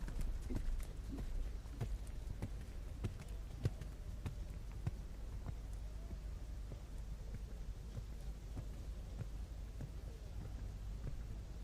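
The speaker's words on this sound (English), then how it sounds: "Into this medium canter, brave with their medium canter." Hooves of a horse in medium canter thud in a steady rhythmic beat across the arena during a dressage test at an FEI junior eventing championship, moderately close over a faint background hum.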